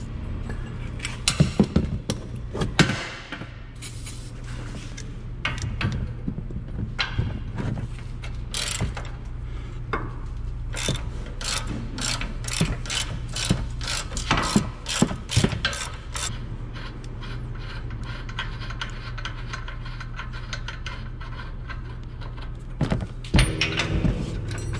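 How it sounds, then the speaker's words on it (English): A ratchet works on the 21 mm upper control arm bolts of a Ford Explorer, sounding as rapid clicking runs in several bursts over a low background hum, close by with occasional metallic knocks. "I'm gonna take out the bolts for the upper control arm."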